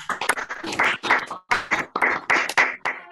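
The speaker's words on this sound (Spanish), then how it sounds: "un fuerte aplauso para Raquel" An audience at a formal academy induction ceremony applauds Dr. Raquel Chan, a close, lively patter of many hands clapping in uneven bursts that swell and dip across the moment.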